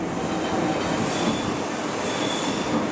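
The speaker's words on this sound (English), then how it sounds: "that's a train for Beckton" A Docklands Light Railway train bound for Beckton pulls into Canning Town station with a continuous close rumble of wheels on rails and a thin squeal of the wheels over it.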